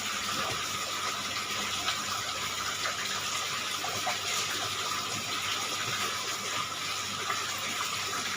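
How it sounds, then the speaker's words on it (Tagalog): Water gushes and splashes steadily while a home fish aquarium has its water changed, a continuous rushing pour at close range with no pauses or talk. "Palitan ko yung tubig kasi hindi na nakikita yung isda"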